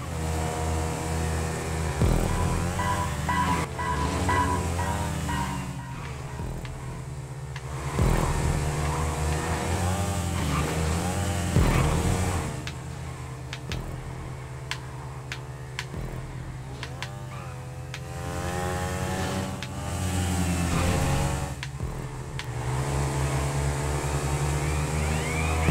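Motorcycle engine in a GTA Online stunt race, droning steadily and revving up and down close by for the whole stretch, with no talk over it.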